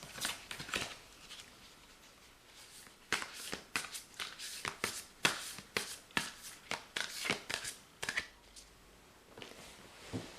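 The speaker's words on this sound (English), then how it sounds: "as I was shuffling the oracle cards" Oracle cards being shuffled by hand, a run of quick dry riffling bursts and soft slaps with short pauses between them, close and fairly quiet, with no talking.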